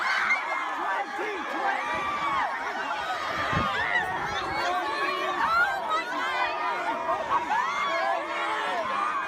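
Excited students crowd around Bernie Sanders, a dense wash of chatter, shrieks and whoops from many young voices, steady and loud throughout with shouting close by.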